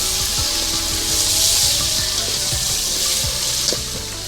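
Onions, tomatoes and green chilies frying in a pan for a village-style rice dish, giving a steady close sizzle with faint scattered clicks of stirring and no talk.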